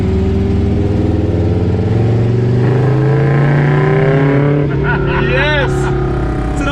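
An old BMW running on vegetable oil accelerates hard, its engine droning loudly and rising in pitch over several seconds; voices shout over it toward the end.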